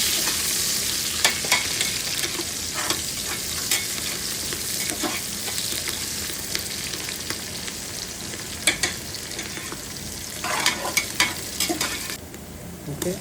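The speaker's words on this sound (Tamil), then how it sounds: "இதை நல்லா சேர்த்து வதக்கி கொஞ்சம் பொன்னிறமாக வர மாதிரி வதக்கி விட்டுருக்கோம்." Sliced onions and five green chilies sauté in a hot pan with a steady crackling sizzle, overlaid by repeated scraping stirs of a spatula against the metal, close and continuous, with no talk.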